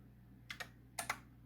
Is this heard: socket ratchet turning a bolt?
no